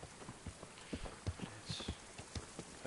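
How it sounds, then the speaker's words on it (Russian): Horse hooves clip-clop in the medieval video game Kingdom Come, a series of sharp, fairly close hoofbeats in an uneven walking rhythm, quiet and alone. "Лошадь, подойди, пожалуйста, мне нужно сесть на тебя."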